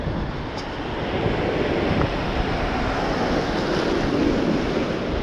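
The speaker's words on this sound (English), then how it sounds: "Waves are strong today." Strong ocean waves break in a continuous, loud roar of surf near a pier, with wind noise over the microphone and no voices.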